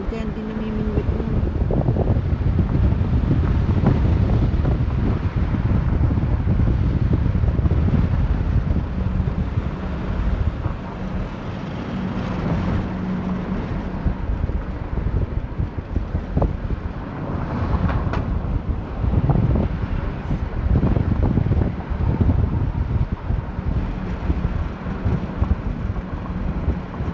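Heavy wind at Eastbourne Beach, New Zealand, buffets the microphone in a constant low roar, with someone talking intermittently underneath.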